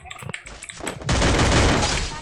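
Gunfire from the battle-royale game Free Fire: a dense, loud burst of rapid shots fills the second half, after a few scattered clicks and thuds.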